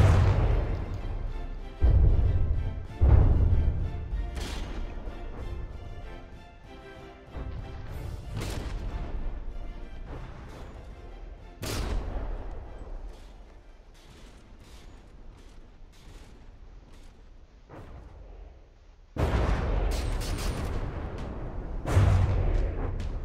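Heavy cannon fire from warship turrets in the video game From the Depths during a ship-versus-ship tournament battle: repeated booming blasts and rumbling impacts, some overlapping, with louder barrages near the start and end.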